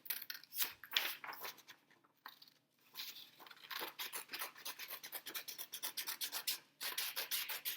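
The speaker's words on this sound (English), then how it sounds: "Now I'm going to cut out the outline of my windsock with some scissors." Repeated snipping and rasping of scissors cutting out a paper windsock outline, a busy close-up rhythm with a brief pause partway, no voices.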